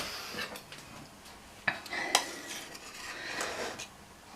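A spoon and cutlery clink against dishes in a kitchen while a cheese and onion flan is prepared, with scattered light taps and two sharper metallic knocks midway, close and fairly quiet.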